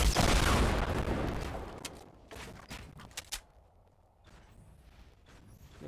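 A loud, dense volley of gunfire from the game Fortnite opens, then thins into scattered sharp shots and clicks that fade into quieter background noise, without talk.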